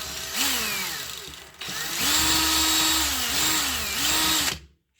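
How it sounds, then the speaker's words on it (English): A power drill reams out pin holes in a 3D printed part for an RC compact vibrating roller, whining in two close bursts with the pitch dipping and rising under load, then stopping abruptly. "you may have to ream this out as well, right?"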